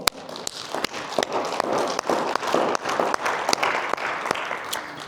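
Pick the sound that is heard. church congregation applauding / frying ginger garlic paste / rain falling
church congregation applauding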